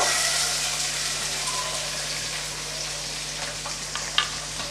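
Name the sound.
chopped onions sautéing in a pan for chicken curry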